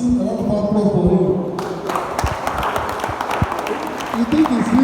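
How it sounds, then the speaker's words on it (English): A crowd applauds a speaker at an academic lecture. The clapping is a steady patter of moderate loudness, heard beneath a voice that keeps talking. "Please, a lot of applause for him."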